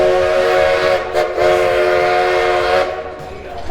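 An empty roller coaster train on a test run at an amusement park roars loudly and continuously along the track, a steady rushing rumble with tonal wheel whine that eases off near the end.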